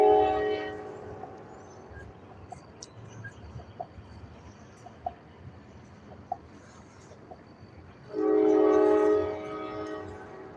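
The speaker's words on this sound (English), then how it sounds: "You say you're sitting by a railroad crossing, Kia Quinn?" A train rumbles by at a distance through a railroad crossing with faint clicks, then a loud, sustained train horn blast sounds near the end.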